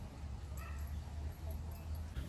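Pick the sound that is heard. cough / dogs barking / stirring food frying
dogs barking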